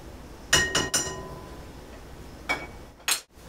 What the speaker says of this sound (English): So got the water in the bowl, drop the sugar in, grab a spoon of course, stir that around a bit